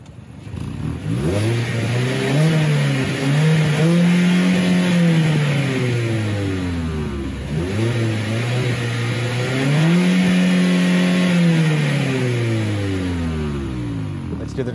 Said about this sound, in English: It's a 2-liter four-cylinder engine, 181 horsepower and 151 pound-feet of torque.